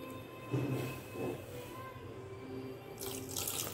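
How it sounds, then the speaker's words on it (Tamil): Milk is poured into curd vermicelli, with close, splashy liquid pouring in a few short surges over a few seconds and no one speaking. "நான் கொஞ்சம் கெட்டியாக இருக்கிறதுனால பால் ஊற்றிக்கிறேன்."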